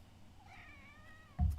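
A house cat gives a single faint, drawn-out meow, rising and then falling, fairly distant in a quiet room, followed by a short low thump.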